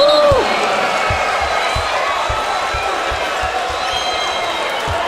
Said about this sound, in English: Even the Lakers fans cheering that one.